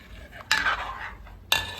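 A spoon scrapes and clinks against a pot while mango payasam thickens, two sharp strokes about a second apart with softer stirring between them, close and fairly quiet.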